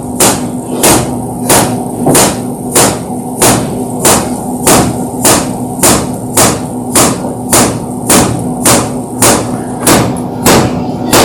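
A knife cuts fresh pasta dough into linguine-width strips on a board, making a steady run of about twenty crisp, evenly spaced taps, close and fairly loud, with no talking.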